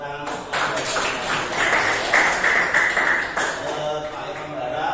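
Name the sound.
students clapping hands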